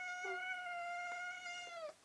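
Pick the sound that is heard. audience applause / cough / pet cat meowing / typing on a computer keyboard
pet cat meowing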